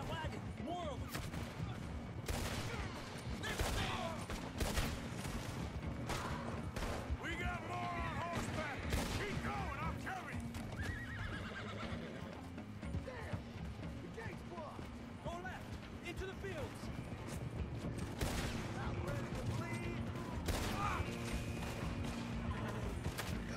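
Gunfire while riding on horseback in Red Dead Redemption 2, with repeated shots cracking out irregularly over hoofbeats and game noise while voices talk throughout.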